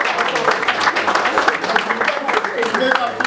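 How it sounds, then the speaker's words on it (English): Audience applause for a woman presenter at an ImCom event, dense steady clapping from a room of people lasting about three seconds, with voices mixed into the noise. "A round of applause again for her as well."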